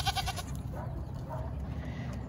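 Baby goats bleating for their mothers on a farm, a few short wavering cries at moderate distance over a low rumbling background, with some brief knocking at the start.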